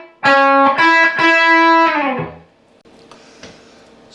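Distorted electric guitar playing a short lead lick from a song; a few quick picked notes ending in a sustained note that fades, followed by faint quiet noise.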